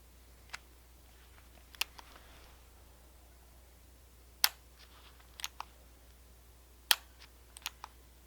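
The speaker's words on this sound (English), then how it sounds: "Let's rack the slide here." A pistol slide being racked in cold conditions, heard as a few sharp, isolated metallic clicks and clacks spread across an otherwise quiet stretch, close and fairly faint.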